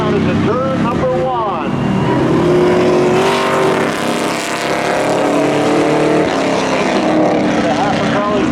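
Race cars roar around Seekonk Speedway during a spectator drags event, a dense continuous engine drone with rising and falling revs, under loud excited commentary from a track announcer.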